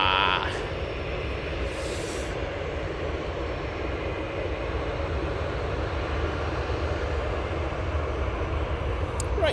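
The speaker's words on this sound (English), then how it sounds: "you've got the Emirates making its way around the back" An Emirates airliner taxiing at Manchester Airport, a steady broadband jet engine roar heard from a distance, continuous and fairly even throughout.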